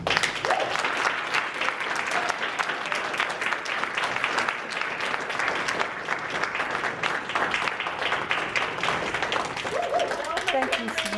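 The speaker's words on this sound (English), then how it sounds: "Seriously, a round of applause." A university audience applauds warmly throughout a poetry reading welcome, dense steady clapping filling the room for the whole stretch, with faint voices briefly audible near the end.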